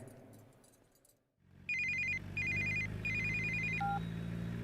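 A telephone rings in repeated electronic bursts, three trilling rings over a low steady hum, ending with a short beep.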